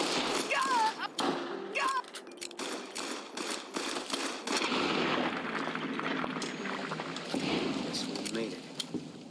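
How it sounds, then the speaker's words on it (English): Gunfire in the video game Fallout New Vegas, a burst of sharp shots and thuds mixed with explosions and game noise, loud and dense, with someone talking over it. "Oh damn, missed both those shots."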